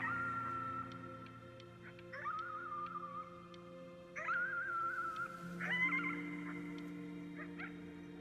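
A dog howls at the moon in the video game Before Your Eyes: long sustained wavering tones rising in pitch in several drawn-out phrases, fairly quiet over a steady low musical bed.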